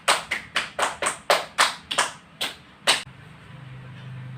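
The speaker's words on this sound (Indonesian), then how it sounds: "Mari kita beri tepuk tangan untuk kelompok 4." A classroom audience gives a student group brief applause: about nine sharp, close claps in a loose rhythm, thinning out and ending after three seconds, followed by quiet room tone.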